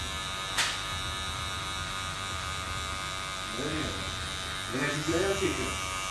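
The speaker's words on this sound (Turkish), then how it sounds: "hızlı bir şekilde ileri geri yaptığın zaman makineyi izimiz daha çabuk" Electric hair clipper buzzing steadily while shaving the sides of a man's head to zero, swept quickly back and forth, with brief voices rising over the hum near the end.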